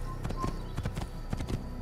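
Horse galloping in the Assassin's Creed video game, a rapid rhythmic clip-clop of hooves pounding steadily at close range, moderately quiet.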